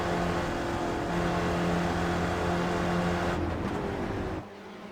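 Race car engines in the iRacing sim at Road America, a steady loud drone of several cars running together, dropping off near the end as they brake into a corner.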